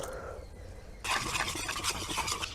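Patishapta batter is whisked with milk and a little hot water, starting as a soft quiet swirl and then turning into a busy, fast scraping and splashing stir for the rest of the moment, close and steady.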